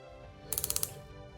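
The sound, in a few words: ratcheted knee joints of a 1/6 scale action figure clicking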